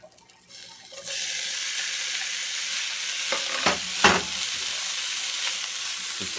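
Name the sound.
bacon frying and sizzling in a hot pan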